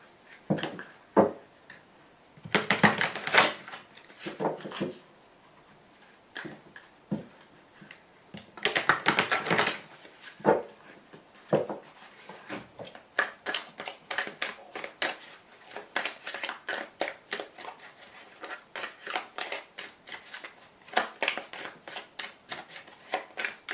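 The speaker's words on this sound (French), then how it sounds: "je vais tout de suite tirer la carte de l'oracle bleu supplémentaire" Oracle cards being shuffled and drawn by hand, with two bursts of riffling followed by a long run of quick, crisp card snaps and taps, close and fairly quiet, with no talking.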